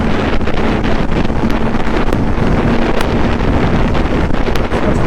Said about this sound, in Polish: No nie, no jest powiew, 120 już walczę z powiewem